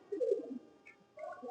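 Pigeons cooing close by, two short soft throaty coos separated by a brief pause.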